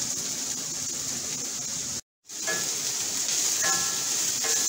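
Beef and peas frying in a pan give a steady close sizzle that cuts out briefly, then resumes with a few light utensil clinks against the pan.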